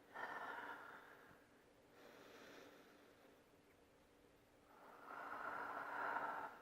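Slow, deep breathing of someone holding a modified child's pose on a yoga mat: a long soft inhale, a quieter pause, then a fuller breath out, close and gentle with no talking.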